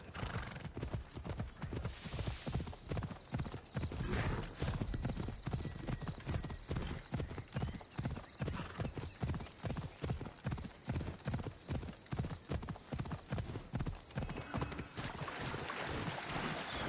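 Steady clip-clop of hooves at a trot in Assassin's Creed Odyssey video game, continuous and close, with an occasional horse whinny over the rhythm.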